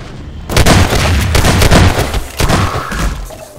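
Rapid shotgun blasts in Half-Life 2 Deathmatch, several loud, sharp booming shots in quick succession with short gaps, close and dominant with no talk over them.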